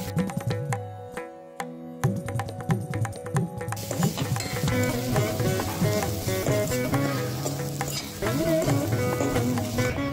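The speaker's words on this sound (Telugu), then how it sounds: "ఇవన్నీ బాగా కలిపి రెడీగా ఉన్న ఆలుగడ్డ ముక్కల్ని వేసి కలపాలి" Potato pieces are stirred into a spiced carrot mixture for masala aloo fried rice, with a steady sizzle and repeated scraping of a spoon in the pan, fairly close, under a constant background hum.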